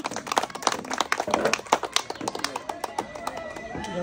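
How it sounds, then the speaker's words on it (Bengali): An audience at a prize game show event claps loudly, a dense patter of many hands striking fast and irregularly for the whole stretch, fairly close and steady. "সবাই জোরে হাততালি হয় না?"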